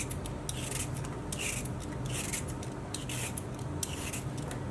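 Five potatoes being peeled for homemade tater tots, heard as a steady close scraping and rasping with repeated strokes throughout, fairly quiet and with no talking.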